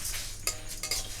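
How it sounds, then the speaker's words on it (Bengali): Coriander, cumin, fennel seeds and dried chillies dry-frying in a pan, a soft crackle with a couple of brief metallic scrapes and clinks from stirring, close and quiet, no speech. "ধনে আছে, জিরে আছে, আর মৌরি আছে, আর শুকনো লঙ্কা ওর সাথে ভেজে নেব।"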